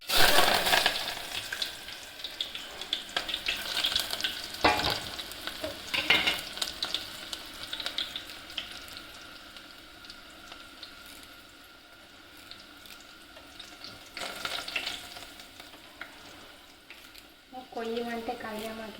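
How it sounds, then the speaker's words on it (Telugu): Tempering frying and being stirred in a pan for a boiled broad-bean dal, steady close sizzling with stirring scrapes and a louder burst near the end, with talking over it. "ఇప్పుడు ఉడికిందిగా ఇక తాలింపు వేస్తాం"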